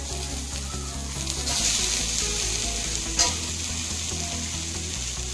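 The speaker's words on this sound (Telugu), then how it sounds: "అలాగే ఇందులో కొంచెం కొత్తిమీర అండి అలాగే రెండు టమాటా" Tomatoes and coriander fry in a pan with tamarind, salt and turmeric for an eggplant curry, a steady loud sizzle with stirring scrapes close by and a brief clatter partway through.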